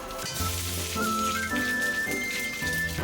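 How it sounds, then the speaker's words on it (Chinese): Sliced ginger and scallion hit hot lard in a wok, a steady bright crackling sizzle throughout with background music playing beneath. "把姜葱片投入锅中，爆出香味儿。"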